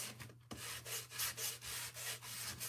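Hand sanding along the edges of a wooden cutting board, a soft rhythmic rasping of repeated back-and-forth strokes, close and fairly quiet, over a low steady hum with no talking.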